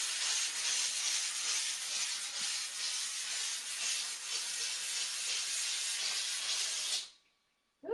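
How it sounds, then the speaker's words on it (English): A steam cleaner hisses continuously and close at hand while cleaning a microfiber couch, a steady bright rush of steam that stops abruptly near the end, leaving a moment of silence. "So I've got the steamer, and again, just keep your hands out of the way"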